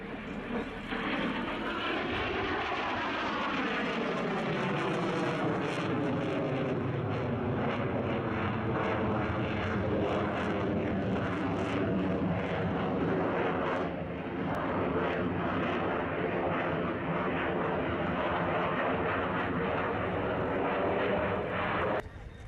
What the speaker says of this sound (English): it's a very impressive display indeed, as we've come to expect from the Belgian F-16